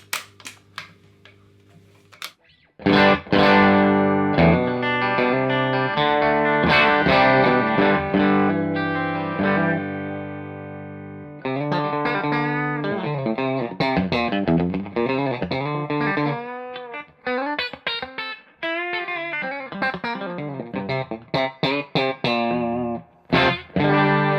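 A vintage Fender electric guitar with its original nitro-finished neck plays sustained distorted chords and melodic notes after a quiet start, with a short break midway before the playing resumes.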